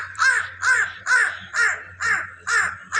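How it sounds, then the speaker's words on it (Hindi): A crow caws loudly and harshly, six calls spaced at a steady rhythm, with a faint low hum underneath and no voices. "ये कौवा इतना शोर करता है ना"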